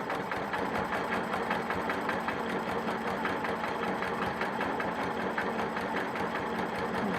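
A sewing machine runs steadily, stitching the outline around a star on a quilt, its rapid needle pulses forming a continuous close buzz throughout with no pauses.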